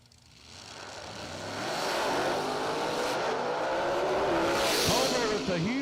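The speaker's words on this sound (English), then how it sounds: "A huge hole shot, but blows the tires away, and Lee goes through with a 4:32." A drag racing car launches at a radial tire event, its engine roar swelling and tires spinning loosely as it pulls away, heard at a distance under crowd noise and background commentary.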